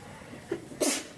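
A single sharp, close sneeze from a person during a chemistry class lecture, preceded by a soft catch of breath and ending in a brief loud burst.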